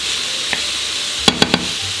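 Soy sauce and vegetable broth hit a hot pan and sizzle steadily, with a few sharp scraping knocks of stirring near the end.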